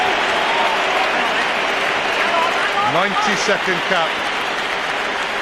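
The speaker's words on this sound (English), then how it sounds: "Let's just wait for the applause." Stadium applause for Welsh rugby player Gareth Llewellyn as he leaves the field in a Wales versus New Zealand test match, a broad steady wash of crowd clapping under commentary.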